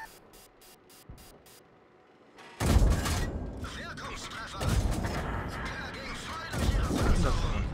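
Tank cannon fire and explosions in a Matilda tank battle game on a steppe map, starting with sharp ticking clicks, then a loud booming burst of gunfire that continues as a dense, rumbling wash of impacts and shots.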